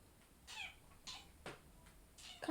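A house cat meows several times, short faint calls spaced about half a second apart, with a louder chirp at the end in a quiet indoor room.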